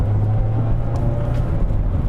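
A 2024 Mazda MX-5 Miata Sport trim accelerates in traffic, its small engine giving a steady low drone with road noise heard from inside the car, continuous and fairly loud.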